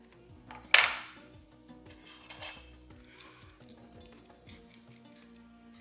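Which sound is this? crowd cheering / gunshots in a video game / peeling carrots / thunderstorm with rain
peeling carrots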